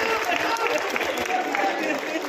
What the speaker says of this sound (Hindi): ताली बजाओ, सांस ले लो।